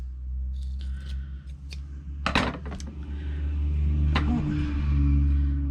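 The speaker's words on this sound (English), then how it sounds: "Loud trucks." Loud trucks pass outside a home craft studio, a continuous low rumble that swells and fades, with sharp clatters and knocks of nearby handling breaking in, and no talk over it.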